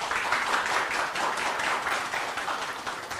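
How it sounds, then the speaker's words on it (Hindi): Audience applause at a CA rankers felicitation ceremony, a dense, steady wash of many hands clapping at close range that holds evenly for a few seconds without voices. "एक बार तालियां।"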